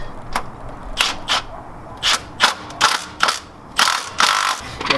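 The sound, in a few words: tightening a lift kit bolt with a socket ratchet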